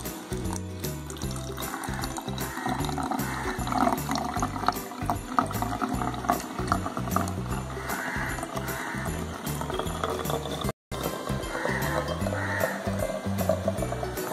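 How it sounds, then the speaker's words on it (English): Water poured slowly into a plastic bottle holding sweets for a sensory bottle, a steady trickling stream with bubbling, briefly interrupted once before resuming. "First of all, I pour the water a little bit"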